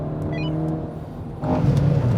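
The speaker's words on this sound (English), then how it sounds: "Fiesta is passing the Mini and giving chase" A 2019 Ford Fiesta ST passing a Mini Cooper S on a race track, a loud in-car engine drone that swells as the car accelerates, with a steady mechanical whine underneath.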